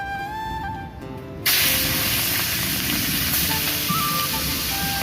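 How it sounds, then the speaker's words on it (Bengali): Prawns hit hot oil in a pan and burst into a loud, steady hiss and sizzle after a quieter start, heard close with no talking. "চিংড়ি মাছ ভাজা হয়ে গেছে"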